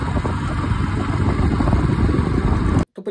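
A motorcycle engine, freshly started, idles close by with a steady rough chugging throb that cuts off abruptly near the end.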